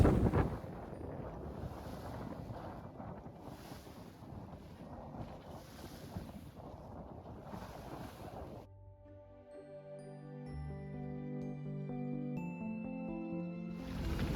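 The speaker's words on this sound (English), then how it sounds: "here we are now, sailing along with 13 knots of wind" A sailboat under way in 13 knots of wind on a passage from Harwich to Ramsgate, with steady wind and water rush against the hull that then drops away, leaving quieter sea noise and faint creaks and tonal rigging hum.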